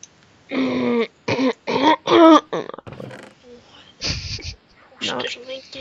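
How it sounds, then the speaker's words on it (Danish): A person nearby coughs and clears their throat in several harsh, close bursts during a Minecraft Skywars game, with talking around the coughs. "Hoster som en gris."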